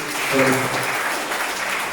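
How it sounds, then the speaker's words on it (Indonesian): Applause breaks out at a fathers' seminar at a kindergarten, a brief wash of clapping with a voice briefly audible over it near the start. "Oke, boleh berikan tepuk tangan."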